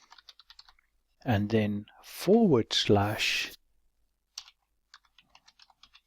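Light, rapid clicks of a computer keyboard as a folder name is typed, heard in short bursts before and after a brief spoken phrase.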